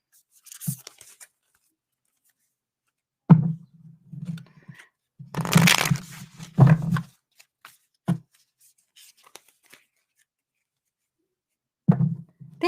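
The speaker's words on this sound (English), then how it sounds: "So I just shuffle them until one comes flying out." A deck of cards being shuffled by hand in short separate bursts of riffling and thumping, loud and close, with quiet gaps between them.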